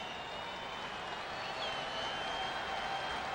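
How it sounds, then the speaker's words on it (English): Baseball stadium crowd at a Pirates–Cardinals game in the ninth inning with two outs, a steady distant roar of cheering and murmur building slightly throughout, with no clear voice in front. "Crowd comes alive in anticipation of the final out"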